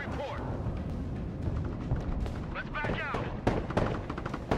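Gunfire and artillery rattle and thump through a Broken Arrow real-time strategy multiplayer battle, with repeated sharp shots and booms layered over one another, while players talk throughout.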